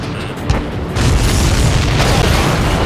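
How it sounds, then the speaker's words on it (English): In the video game Ace Combat 7: Skies Unknown, a missile hits a supply ship and a loud, deep explosion booms out, followed by a sustained rumbling roar that fills the rest of the moment. "Did you see that explosion?"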